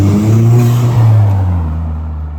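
A VW Caddy van with a swapped-in TFSI engine accelerates on a private road, a loud close engine note climbing through the revs and then easing off as the roar fades.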